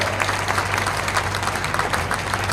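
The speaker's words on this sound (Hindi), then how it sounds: "जरा जोरदार तालियों के साथ मुख्यमंत्री जी का स्वागत करें।" Audience applause at a working journalists' union meeting in Morena, welcoming the chief minister: steady, dense clapping from a crowd, fairly loud and continuous throughout, with no speech over it.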